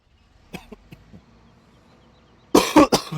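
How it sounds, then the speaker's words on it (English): A few quiet throat sounds, then a loud burst of harsh coughing close up near the end, two or three coughs in quick succession. "See if this will help me from coughing this whole freaking episode"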